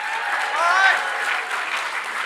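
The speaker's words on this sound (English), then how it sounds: "A round of applause for our participants." Audience applause at a conference talk, a brief steady wash of clapping from a crowd, fairly close and even throughout.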